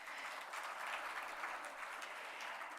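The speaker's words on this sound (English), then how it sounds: "I think that calls for a round of applause" Audience applause at the Devi Awards ceremony in Chennai, a steady, even wash of clapping from a crowd that holds at a constant, fairly soft level throughout, with no voices over it.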